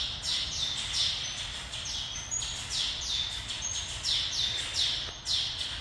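Taveta golden weavers in a walk-through zoo aviary give repeated bright, buzzy chirps and chattering calls in quick bursts, clear and fairly close, with no voices over them.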